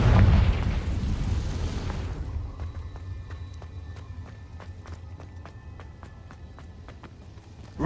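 A Confringo blasting spell from the game Hogwarts Legacy goes off as a loud, close explosion at the start, then a low rumble trails off under light rhythmic footsteps and faint ringing tones.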